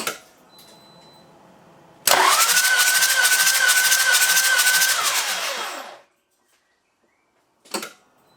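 A Toyota Land Cruiser 80 Series 1HD-T diesel engine cranks on its starter for about four seconds during a compression test, with oil added through a glow plug hole. It is a loud, even, whirring churn that cuts off abruptly, followed by a brief knock.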